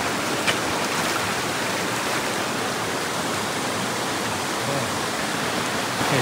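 Creek water rushing over rocks along a canyon trail near a waterfall, a constant, even broadband wash with no breaks, close and fairly loud.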